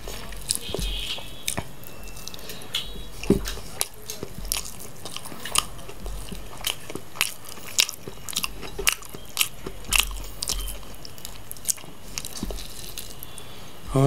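Hard potato chunks in spicy chicken biryani get bitten and chewed close to the mic, giving sharp crunchy bites at irregular intervals over soft squishy chewing, with no talking.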